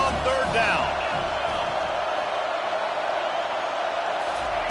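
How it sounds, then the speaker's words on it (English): A home crowd roaring at a college football game as the defense faces third down: a dense, sustained stadium roar rising and holding steady, with a commentator talking over it. "Here comes this home crowd as the defense tries to get off the field on 3rd down."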